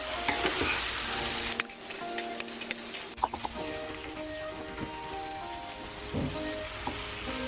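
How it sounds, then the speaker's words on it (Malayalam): Cooked tapioca being stirred and mixed in a pan on the stove, with close sizzling and scraping stirring strokes and a few sharp clinks, no talking. "നല്ലോണം അങ്ങ് മിക്സ് ചെയ്തു"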